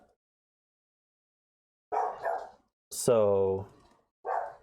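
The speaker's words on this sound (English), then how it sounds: "I apologize if you hear the barking in the background." A dog barks a few times nearby, short sharp barks with one longer harmonic yelp, mixed with a brief spoken word.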